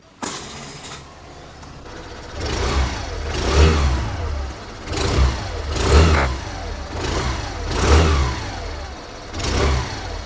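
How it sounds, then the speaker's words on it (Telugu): A 2025 Suzuki Avenis 125 Special Edition scooter with a 125cc engine idles, then is revved hard about four times in a steady rhythm, each rev rising and falling, loud and close to the exhaust. "Suzuki Evans one twenty five exhaust note అయితే ఒకసారి విందామండి"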